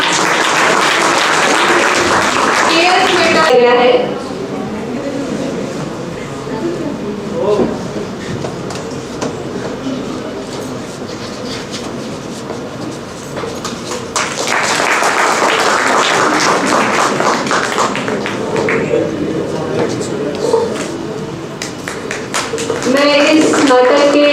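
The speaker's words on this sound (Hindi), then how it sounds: "एक बार फिर से जोरदार तालियां।" A theatre audience claps for the performers on stage at a drama festival in Ambala. Loud sustained applause opens the clip, falls back to scattered clapping under an announcer's voice, then swells again into a full ovation.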